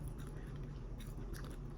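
Soft, close chewing of a salty vanilla protein oat bar, a quiet run of moist bites and mastication with faint crunchy clicks.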